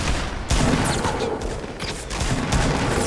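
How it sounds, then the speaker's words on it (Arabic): Dense, continuous Fortnite gunfire crackles in rapid overlapping bursts, loud and close, with no talk over it. "صاير له وايد طلقات"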